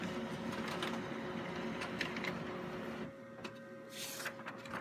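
A Brother HL-L2390DW duplex laser printer runs steadily, whirring and feeding a page with mechanical clicks and rollers, then quiets briefly before a few more short mechanical sounds.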